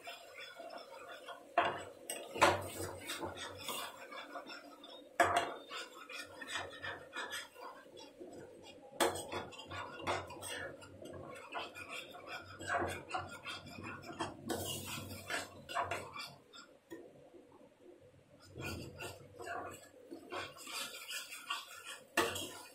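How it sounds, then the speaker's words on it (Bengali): A metal utensil stirs and scrapes spices frying in a pan for a raw mango fish curry, with irregular close clinks and scrapes over faint sizzling and a few pauses. "মশলাটাকে একটু ভালো করে কষিয়ে নিতে হবে।"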